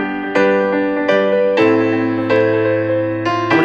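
Arpeggiated piano chords from a Logic Pro Session Player ring out in a clear, sustained pattern of broken chord notes, struck one after another with the chord shifting partway through.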